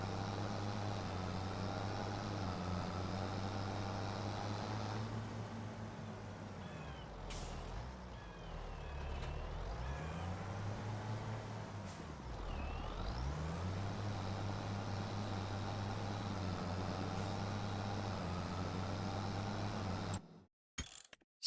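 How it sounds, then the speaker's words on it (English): Stump grinder machine in Farming Simulator 25, a steady loud mechanical drone with deep tonal engine hum and whining harmonics, dipping and swelling in pitch as it works, with hissing bursts, alone without talk. "Get out that stump grinder."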